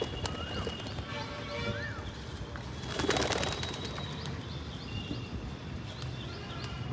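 Pigeons settle with soft cooing and chirps over a low background, and a brief burst of wing flapping and fluttering comes near the middle, moderately close.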